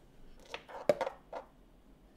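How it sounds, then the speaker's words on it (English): Leftover protein ball mix being stirred in a container, heard as a few separate soft knocks and scrapes of a utensil, sparse and fairly quiet. "So I'm actually going to mix this some more"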